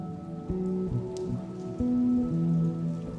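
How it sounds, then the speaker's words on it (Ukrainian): Gentle drizzle falls on a city street, a soft, steady patter spread beneath sustained, slowly shifting musical tones, calm and unbroken. "Уяви, що ти йдеш вулицею, а дощ м'яко моросить."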